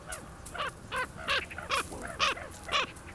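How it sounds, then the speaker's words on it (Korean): Magpies giving repeated alarm calls in the wild, alerted by a nearby wolf, a series of about eight harsh, rasping chatters at a steady rhythm, moderately close over a faint outdoor background. "늑대의 출현에 놀란 까치들은 경계음을 늦추지 않는다."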